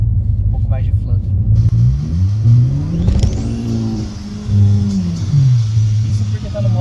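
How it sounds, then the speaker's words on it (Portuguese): Turbocharged VW Jetta engine revving up and down in repeated sweeps, with turbo flutter between pulls, loud and close from inside the car, while people talk over it. "Vamos jogar no S, às vezes ele faz um pouco mais de flutter."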